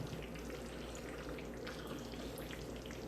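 Steady crackling sizzle of peppers frying in hot oil, a dense continuous spatter with no talking.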